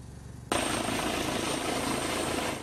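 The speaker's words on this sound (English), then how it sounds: "A Life Flight helicopter lands in Cape Cod on a grim mission." A medical helicopter roars in abruptly after a quiet moment while landing on Cape Cod, its loud, steady rotor wash and engine whine continuing close by.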